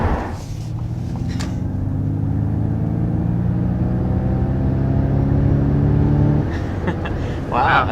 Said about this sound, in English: That's like violent acceleration.